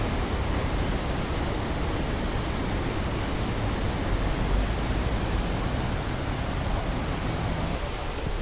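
Palovit waterfall, swollen after rain, plunges 15 metres in the eastern Black Sea forest, producing a loud, unbroken roar of rushing water up close.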